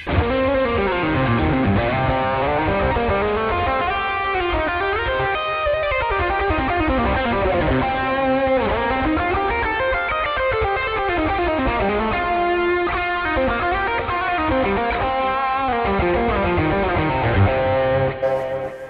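A heavily distorted electric guitar through a Boss Katana amp on a Marshall amp model plays a sustained lead line with chords, loud and saturated, continuing without a break.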